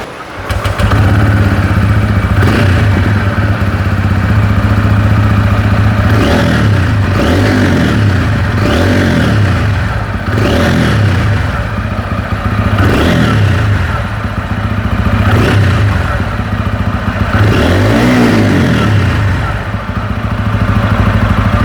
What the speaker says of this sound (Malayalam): ഈ ഒരു ബൈക്കിൻ്റെ എക്സോസ്റ്റ് സൗണ്ട് സൗണ്ടും കൂടെ ഒന്ന് കേൾക്കാം